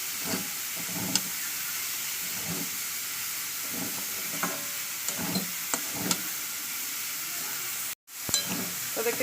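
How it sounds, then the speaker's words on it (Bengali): Steady hissing sizzle of lentils frying in a hot pan, with occasional soft scraping stirs and brief clicks, continuous throughout. "আমার কিন্তু ভাজা ভাজা হয়ে এসছে প্রায় ডালটা"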